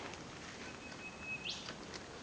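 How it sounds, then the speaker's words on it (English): A single thin, high bird call rises briefly and then fades against a soft, steady outdoor background. "Love that bird"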